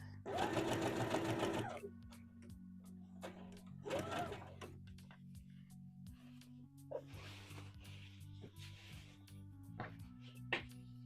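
Sewing machine stitching a seam on a McCall's M8141 misses' dress, running in short bursts of rapid needle chatter separated by pauses, quiet and close, with brief handling noises and soft talk between runs.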